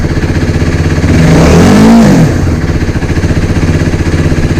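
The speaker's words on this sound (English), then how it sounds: "the K&N air filter doesn't really increase the performance, but it certainly increases the induction noise" A KTM Duke motorcycle engine fitted with a K&N air filter, loud and close, idling with a steady pulse before a single throttle blip swells its pitch up and drops back to idle.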